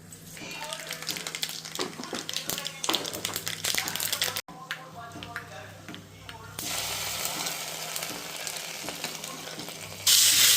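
Grated coconut being stirred into upma in a pan, with scraping, tapping stirs and a soft sizzle under a woman's Malayalam speech, ending in a louder burst of hissing.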